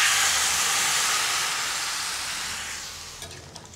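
Water poured into a hot karai of fried cumin powder bursts into a loud, close steam hiss that slowly fades over a few seconds, with a couple of small clinks at the end.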